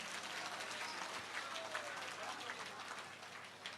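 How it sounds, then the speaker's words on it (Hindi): Crowd applause at a Hindu temple consecration festival in Gurugram, a faint, distant wash of many hands clapping that continues steadily for several seconds with voices murmuring beneath it. "जोरदार ताली बजा के धन्यवाद दो"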